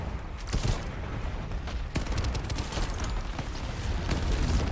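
Dense, continuous gunfire in the shooter game Shatterline: rapid overlapping shots and bursts crackle close and loud throughout, with a sharp spike of fire near the middle and no voices.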